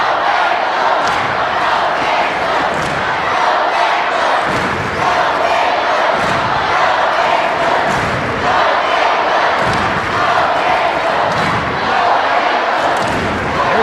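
A packed arena crowd at a girls state basketball tournament game roars and cheers loudly and continuously, with thumps and shouts rising out of the sustained din.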